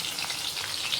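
Garlic and onion fry in hot oil, a steady close sizzle with bright crackling and spitting and a faint stir, with no voices present.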